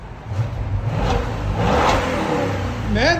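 An Audi S8 with a 4.0L V8 and a resonator delete revs up and holds a loud, rising exhaust growl, with a voice briefly heard near the end.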